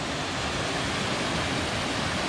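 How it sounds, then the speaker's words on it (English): A small waterfall gives a constant, close rush of falling water, a dense steady roar with no pauses throughout. "a pretty little waterfall."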